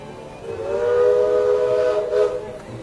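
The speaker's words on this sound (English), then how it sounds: "You can hear the train a-coming." A steam train whistle sounds a sustained, slightly wavering chord from a moderate distance, swelling and then fading over background hiss.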